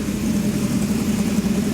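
A rebuilt car engine idles after its camshaft break-in with a steady, even low rumble close by and no knocks or clicks. The idle holds constant and runs alone without voices.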